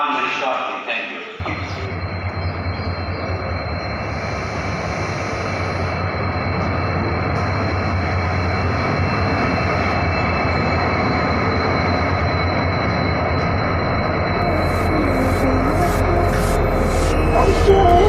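A passenger train rolls into the platform at Hasimara station in India, a loud, steady rumble of wheels and carriages building throughout with brief squeals and clatter near the end, and voices heard over the noise.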